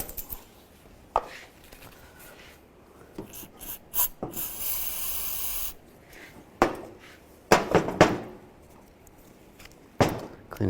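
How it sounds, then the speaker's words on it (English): A wire brush scrubs out a brake part in short, rough bursts of scraping, some louder and sharper than others, with pauses between strokes, close by. "What you want to do is take some type of wire brush and just clean this out."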